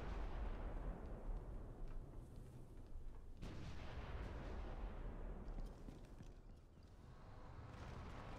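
Artillery fire in the video game Ghost Recon Future Soldier: a dense, continuous wall of deep rumbling booms and distant blasts, loud and sustained throughout, with a sharp crack midway.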